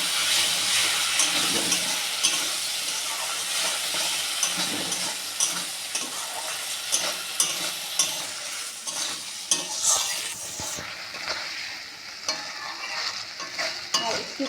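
A spoon stirs fish egg curry spice paste in a hot pan after water is added, sizzling and frying steadily while repeated scraping strokes come through close and clear.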